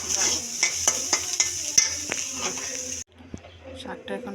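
A tempering of dried chili and garlic sizzles in a pan for rice, a bright close hiss with faint stirring clinks that cuts off abruptly partway, leaving quieter pan noises.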